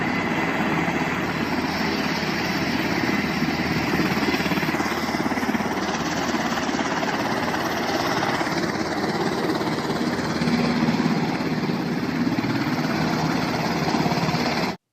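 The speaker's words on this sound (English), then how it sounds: "a popular video circulating that shows Taliban jihadis driving one of the Black Hawk helicopters" Black Hawk helicopter taxiing on a runway, a steady loud engine and rotor drone, continuous and unbroken throughout.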